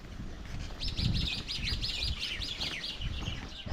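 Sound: birds chirping

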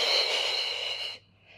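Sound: breathing during a Pilates mat workout

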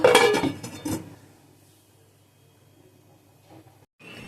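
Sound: pot being covered with a lid while cooking egg curry

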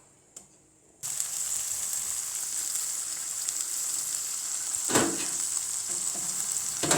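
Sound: bacon sizzling as it is stir-fried in a pan

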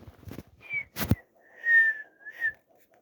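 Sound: whistling

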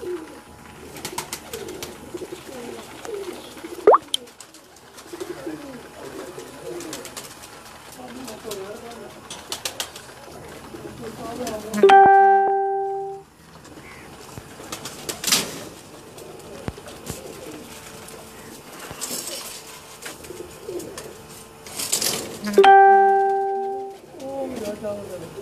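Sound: pigeons cooing

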